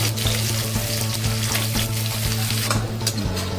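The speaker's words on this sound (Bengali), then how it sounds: "এবার পেঁয়াজটাকে ভাজবো, লাল করবো না, সামান্য ভাজা ভাজা করে" Onion frying in a pan while cooking chicken rezala, a steady close sizzle with scraping stirring strokes, loud and alone.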